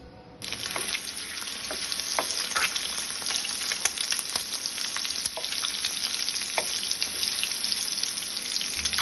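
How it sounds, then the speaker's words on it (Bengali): Boiled eggs rubbed with salt, turmeric and chilli powder drop into hot oil in a pan, setting off a loud, steady, crackling sizzle that starts abruptly and holds with no talking. "এবার একটা প্যানে তেল গরম করে আমি এগুলোকে ভেজে নেব।"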